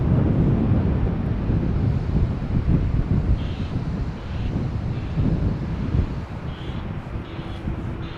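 A KLM Boeing 777-200, twenty years old, sits lined up for takeoff at Amsterdam Schiphol in wet, windy weather, a steady low roar of jet engines and wind noise filling the air without a break.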